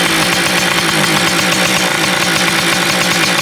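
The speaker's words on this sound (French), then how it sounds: "tu peux capter que la moto fait beaucoup de bruit" A Yamaha DT 100cc motorcycle engine idles loudly and steadily close by, a dense, unbroken two-stroke drone that runs through the whole stretch with no talk over it.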